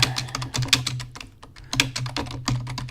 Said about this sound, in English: my typing is absolutely awful as I'm trying to do this and do the show